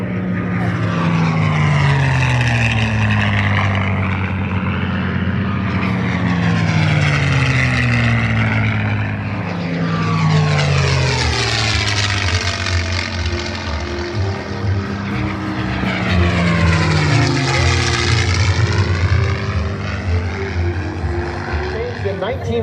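Two P-51 Mustang propeller fighters flying at the 2024 Bremerton air show: a steady, loud engine drone with repeated rising and falling swells as the aircraft make passes, heard over a voice commenting throughout.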